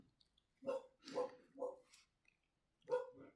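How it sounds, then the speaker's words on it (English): A dog barks several times nearby, a quick cluster of three barks followed by a pause and two more, in an otherwise quiet room. "that's my sister's dog barking in the background"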